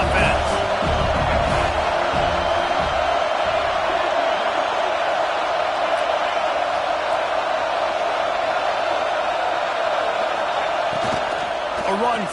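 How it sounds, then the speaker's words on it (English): Steady roar of a stadium crowd in a football video game, a dense continuous wash of cheering that holds loud throughout the opening drive while a commentator talks over it. "This crowd trying to make life miserable for this offense."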